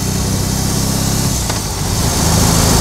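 A BMW R18 Transcontinental motorcycle engine runs loud and close in a steady, throbbing rumble, holding an even pitch with a brief sharp click midway and swelling slightly toward the end.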